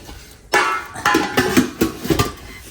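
Metal cooking pots and vessels being moved and stacked at home, a run of close clanks and knocks in uneven rhythm, some ringing briefly, with no talking.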